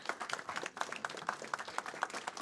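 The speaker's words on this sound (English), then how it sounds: "Huge round of applause, please." Applause from an audience at an industrial open house event, a soft, fairly distant patter of many hands clapping steadily for a couple of seconds with no speech over it.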